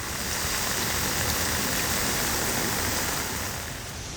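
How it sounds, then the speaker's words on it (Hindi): Heavy rain pours down in a dense, steady roar, loud and unbroken throughout, easing slightly only at the very end. "बारिश हो रही है तो तेज हो रही है"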